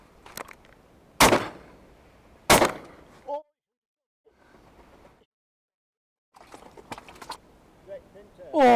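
Two sharp, loud shotgun blasts ring out about a second apart while wildfowling outdoors, each with a short decaying tail, followed by quieter pauses and then people talking nearby.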